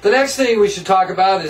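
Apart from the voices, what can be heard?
No everyday noises stand out.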